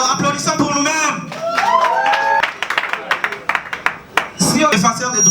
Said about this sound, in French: Alors applaudissons pour nous-mêmes.